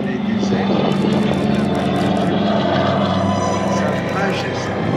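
A Douglas DC-3 propeller airliner at the Paris Air Show, its piston engines droning in a loud, steady roar with a low throbbing hum, close and continuous, with an announcer speaking over it.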